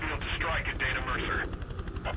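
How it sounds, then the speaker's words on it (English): A damaged helicopter in the video game Prototype 2 drones with a pulsing rotor chop beneath a man's radio-style voice, which stays louder than the aircraft throughout the brief moment. "My helicopter has seen better days."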